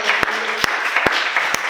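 Congregation of about 120 people in a church applauding, a steady mid-level wash of clapping with a few sharper claps standing out, no talk over it.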